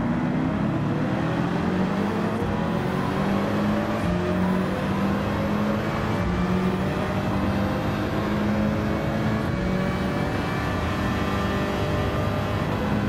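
Race car engine from Gran Turismo 7 at the Red Bull Ring, revving steadily through laps with rising and falling pitch as the car shifts gears and brakes, loud and continuous with no talk.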